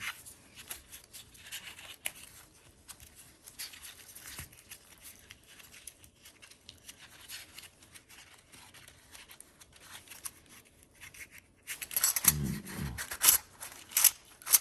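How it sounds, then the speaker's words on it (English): A paper coin roll of Morgan and Peace silver dollars being unwrapped, with faint continuous crinkling and tearing of the wrapper, then a louder burst of rustling and clinking near the end, close and without talk. "I'm going to see if I can preserve this just by unwrapping it here."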